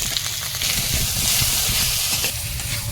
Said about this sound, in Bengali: মা আলুটা ভেজে নিচ্ছে